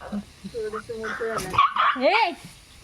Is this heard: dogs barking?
yes